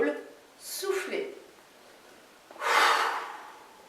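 Two forceful breaths during a breathing exercise, a short rushing exhale followed after a pause by a longer, louder blown-out breath, close to the mic.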